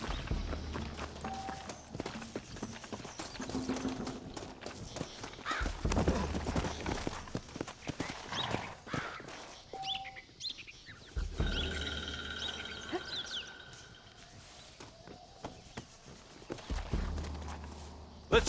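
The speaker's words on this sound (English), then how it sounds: "Looks like Carlos lifted some horses." Horse hooves clip-clop amid ambience from the video game Red Dead Redemption, with occasional tonal effects and rustling layered in; fairly close, continuous movement.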